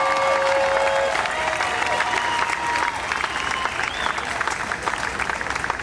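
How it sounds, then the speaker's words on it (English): An audience at an inauguration ceremony gives a round of applause for young finalists, loud dense clapping with some crowd noise and a few cheers, sustained throughout. "give all of these young people that made it to the end a round of applause"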